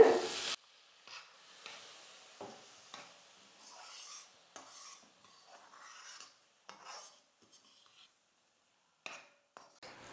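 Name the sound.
cooking semolina with milk, stirring in pan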